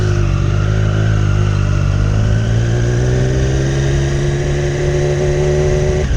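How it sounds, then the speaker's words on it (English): A loud, close 2020 Triumph Street Triple RS motorcycle engine revs through its stock exhaust with a deep, steady throaty note, its pitch rising slightly toward the end. "The bike's stock exhaust sounds super awesome."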